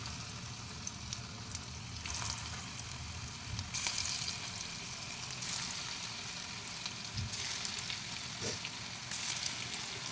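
Small bottle-gourd kofta balls frying in hot oil, a steady close sizzle and crackle that holds at an even level, with occasional louder spits and bubbling bursts.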